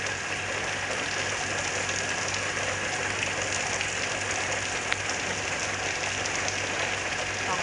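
Heavy storm rain pours down steadily and loudly onto surfaces nearby, a dense unbroken roar with scattered drop impacts throughout.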